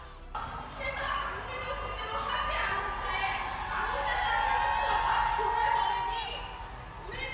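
Citizens cheer and shout as protesting farmers' tractors arrive in front of the presidential residence in Seoul, a sustained crowd roar at steady loudness with voices and whistles mixed in.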